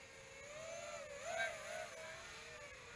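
A K250 250mm FPV racing drone's motors whine steadily, the pitch rising and falling slightly with throttle; a continuous, moderately faint electric buzz with no talk.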